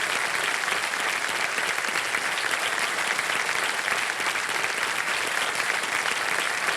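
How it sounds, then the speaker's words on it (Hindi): A studio audience on a televised quiz show breaks into loud, continuous applause that holds steady throughout, with no voices over it. "ताली बजती रहे"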